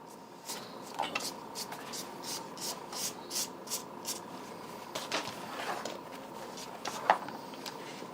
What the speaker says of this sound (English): I'm going to sand it anyway.